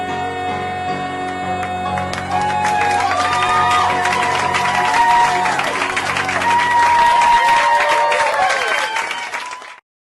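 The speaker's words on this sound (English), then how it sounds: "Thunderous applause." Loud applause and cheering from a live studio audience, with whoops and shouts rising over steady clapping for several seconds before it cuts off abruptly; a faint held music tone sits underneath at the start.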